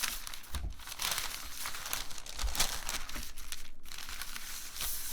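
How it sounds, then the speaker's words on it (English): Fabric being folded by hand for a Japanese sewing project, producing a steady soft rustle and crinkle with a few sharper crisp handling sounds, close and alone. "So I've folded it across and now I'm going to fold it up."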